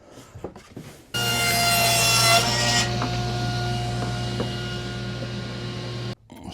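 A table saw rips through a sheet of plywood, its blade starting abruptly with a loud, steady whine and hum that holds for about five seconds before cutting off, with no talking.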